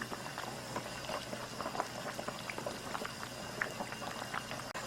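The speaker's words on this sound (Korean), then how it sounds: "다시 있게 보글보글 끓고 있네요." Spicy Korean chicken stew broth (dakdoritang) with potatoes, about 700 ml of water, bubbling steadily in a pot, with a continuous soft gurgle and small popping bubbles close by.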